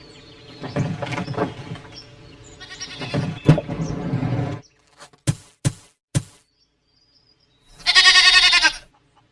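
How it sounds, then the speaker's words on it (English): Goat bleating in a children's animal-sounds game, several wavering bleats up close, followed by a few sharp clicks and a short bright jingle. "Goat."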